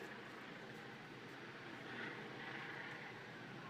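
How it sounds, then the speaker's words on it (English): Police helicopter flying low overhead during a street protest in Bristol, UK, a steady broad rotor and engine roar filling the air and swelling slightly louder midway, with crowd noise mixed beneath. "you can hear the helicopter above our heads, much lower than it was"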